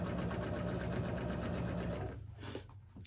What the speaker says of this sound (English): I'm just gonna sew across right on that line that I drew